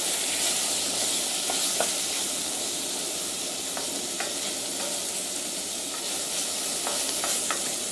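Tomato paste sautés in a spoonful of butter for tomato noodles, giving a soft continuous sizzle with occasional light utensil clicks, faint and steady with no voice.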